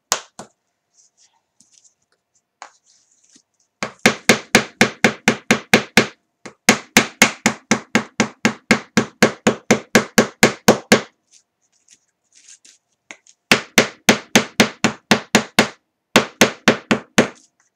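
Repeated hammer blows strike a piece of wood being distressed, landing in fast, loud, evenly spaced bursts of a dozen or more sharp knocks separated by short pauses, with no talking.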